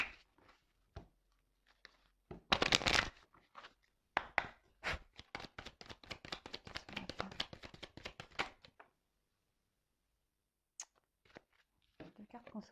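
Tarot cards are shuffled in a rapid run of dry, crisp riffling taps, with a brief louder burst early on and two cards flicking out. Quiet pauses separate the bursts.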